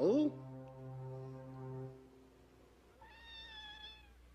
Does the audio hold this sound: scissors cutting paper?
no